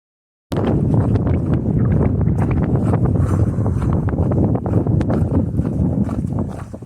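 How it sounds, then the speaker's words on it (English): Strong wind buffets the microphone in continuous rough gusts, loud and close, with no voices. "It is windy and cold."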